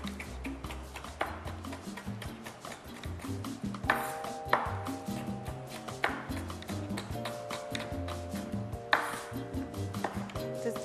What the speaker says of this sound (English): The garlic, I'm just gonna cut it into little slices